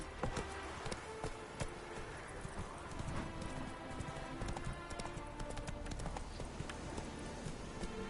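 A horse gallops in The Witcher 3, its hoofbeats clip-clopping steadily and close throughout amid busy ambient game sound, with a faint voice now and then.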